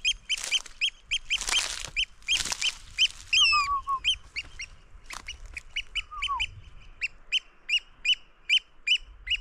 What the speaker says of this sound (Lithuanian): Žiūrėkit, pirmi kažkokie paukščiai